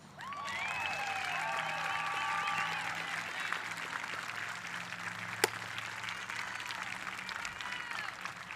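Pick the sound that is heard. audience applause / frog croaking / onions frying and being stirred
audience applause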